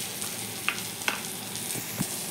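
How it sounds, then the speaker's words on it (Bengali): Onions fry in a pan with a constant sizzle, punctuated by a few sharp utensil taps and scrapes from stirring, nearby and unaccompanied by speech. "দেখুন পেঁয়াজগুলো হালকা ভাজা ভাজা হয়ে গেছে।"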